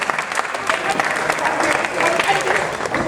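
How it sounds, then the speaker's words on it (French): An audience applauds the Sporting Club de Toulon football players as they are presented, a dense, steady wash of clapping that runs the whole time, with a voice speaking over it. "Allez, on peut les applaudir"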